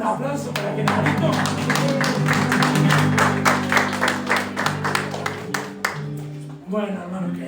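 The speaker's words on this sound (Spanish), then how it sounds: "le damos un aplauso para Genarito" A church congregation applauds for the child Genarito, a dense burst of hand clapping that runs for several seconds over a sustained low tone, then thins out into scattered claps.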